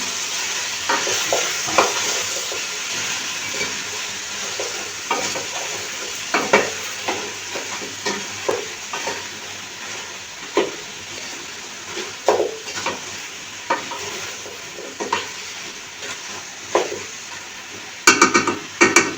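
Fish and flat beans fry in a pan with a continuous sizzle. Frequent stirring scrapes and spoon clinks against the pan come in uneven bursts, close up and fairly loud.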